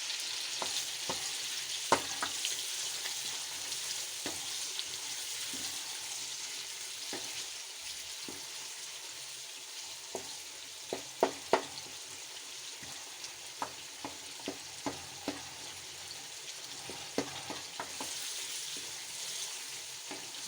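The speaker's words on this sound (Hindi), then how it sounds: "जो मैंने अदरक लहसुन का पेस्ट बनाया था उसको भी अब डाल देते हैं।" Ginger garlic paste sizzles with chicken pieces in a kadai, a steady soft frying hiss punctuated by scattered clicks and taps of stirring, quiet and alone.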